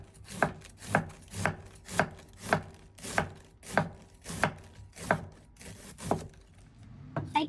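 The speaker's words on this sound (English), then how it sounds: "Slice the cabbage." A knife slices through cabbage on a cutting board in about a dozen steady, evenly spaced crisp chops, close and moderately loud with no talking.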